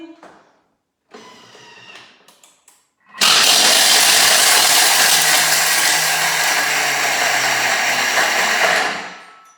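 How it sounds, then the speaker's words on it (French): A Thermomix blades chocolate in a loud, roaring whir that starts abruptly after a few seconds of quieter clatter, runs steadily for about six seconds, then cuts off. "on va mixer le chocolat. C'est le côté le plus désagréable dans le Thermomix"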